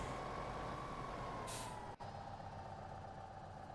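Truck in Farming Simulator 15 idling with a steady engine drone, a short hiss of air brake release about midway and a brief cut just after; no voices.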